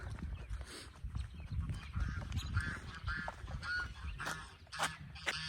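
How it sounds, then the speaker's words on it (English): Geese honk repeatedly, near and fairly faint, with scattered calls over rustling outdoor noise. "Our favorite geese."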